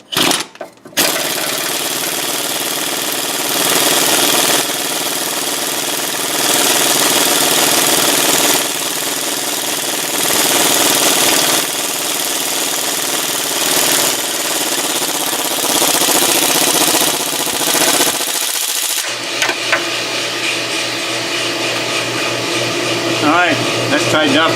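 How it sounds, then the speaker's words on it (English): Loud, continuous impact wrench hammering as it tightens an engine part on a GMC Acadia, running in long pulsing bursts for most of the stretch before cutting off near the end, where lighter shop noise follows. "It's going to get noisy because we are going to impact this bad boy on there."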